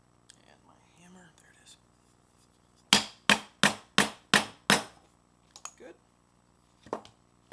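A hammer strikes a hole punch through a hard rubber strap, six sharp evenly spaced blows close by, with quiet whispered talk before and after.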